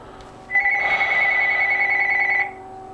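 A telephone rings in one sustained electronic trill of about two seconds, loud and close, with a quiet room before and after.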